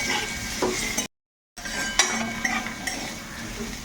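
Potato pieces frying in a pan with chopped onion and chilli, a steady broadband sizzle with scraping stir strokes and light utensil clinks, briefly cut to silence midway, no voices.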